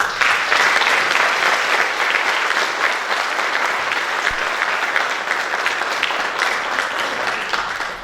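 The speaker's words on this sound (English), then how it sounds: "You should give yourselves a round of applause." Graduates at a high school graduation ceremony applaud together, a dense, steady wash of clapping that holds loud and even from start to finish.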